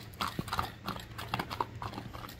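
Hooves of a running horse beating a quick, uneven clip-clop rhythm outdoors, fairly faint and moderately distant, with no talk.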